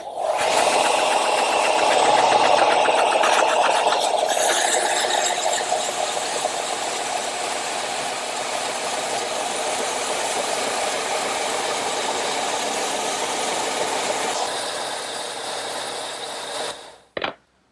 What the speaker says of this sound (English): I'm going to use my vertical belt sander.